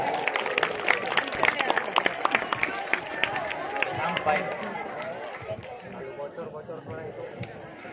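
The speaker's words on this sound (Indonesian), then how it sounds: "Beri tepuk tangan untuk teman-teman kita." Audience applause at a school award ceremony with sholawat and prize-giving, heard as a crisp, rapid patter of clapping that fades toward the end while voices talk over it.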